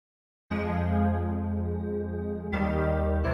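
Sustained future house synth preset called Along: a rich, buzzing held chord swells in after a moment of silence, holds steady, then shifts to a new chord, loud, dense and continuous with no voices.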